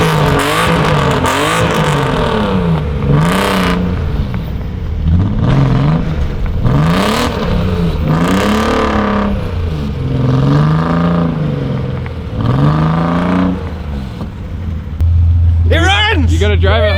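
A crashed BMW E36 M3 auction car engine, with two flat tires, repeatedly cranks and revs in rising-and-falling surges, loud and close, as people talk over it.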